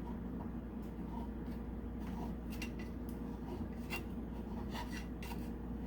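A utensil scrapes around the edges of a frying pan to loosen a chocolate cake, making faint, quiet rasping and rubbing sounds with a few small metallic scratches.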